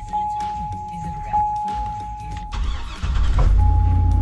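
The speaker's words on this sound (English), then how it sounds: "Listen to that Vortec engine." A chime dings as a Hummer H2's Vortec engine cranks and catches, settling into a loud, steady idle rumble close by, with a voice talking early on.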